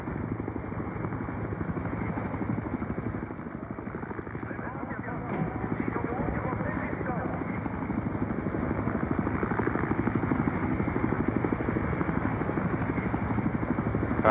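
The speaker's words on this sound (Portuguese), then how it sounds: "O helicóptero tá nos atrapalhando aqui" Helicopter rotors in the video game Battlefield Hardline thump steadily throughout, a loud continuous chopping drone that swells slightly, with someone talking over it.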